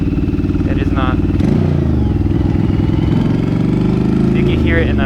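A Yamaha V Star 1100 motorcycle engine idles close by at low RPM, running rough with an uneven, skipping throb, while a voice briefly speaks over it.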